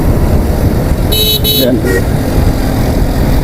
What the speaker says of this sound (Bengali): এত পরিমাণে অটো সিনজি যদি চলে ভাই ভয় লাগে